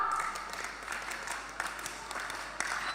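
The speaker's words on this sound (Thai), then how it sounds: "ปรบมือนะ ถ้าพร้อมแล้ว 1 2 3" Students clap together in unison on a count of three at a youth road-safety event, a short burst of group applause with sharp accents, fairly steady and moderately loud.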